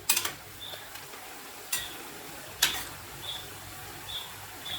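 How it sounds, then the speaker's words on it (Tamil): Cauliflower pakoda deep-fry in hot oil, a steady soft sizzle broken by a few sharp clatters as pieces are turned, close and fairly quiet without speech. "இது நல்லா ஃப்ரை ஆகி வரட்டும் அப்பப்போ திருப்பி விட்டுக்குவோம்"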